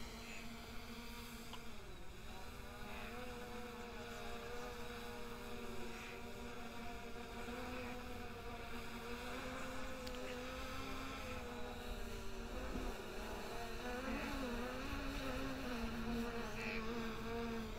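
SJRC F11 drone flying higher and fighting the wind: a steady, high, buzzing whine of propellers that wavers in pitch, heard from a distance and unbroken throughout, with no talk.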